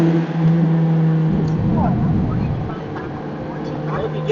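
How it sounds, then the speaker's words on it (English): A Lotus Elise engine drones and revs while driving with the top down, with wind rush and road noise mixed in and someone talking over the engine. "I hope you're getting some of that engine sound."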